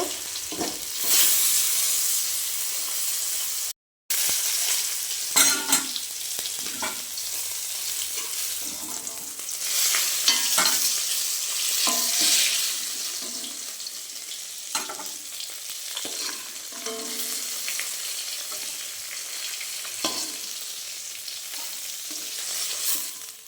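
A rupchanda fish head fries in a pan with a continuous, close crackling sizzle and occasional stirring scrapes, broken by one very short gap. No one speaks.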